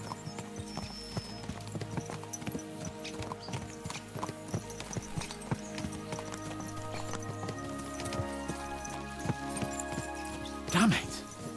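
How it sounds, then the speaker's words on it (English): Horses clip-clopping at a steady pace in the medieval game Kingdom Come Deliverance 2, hoofbeats running throughout over a bed of game music, with a brief louder burst near the end. "Let's really spur these horses on, eh?"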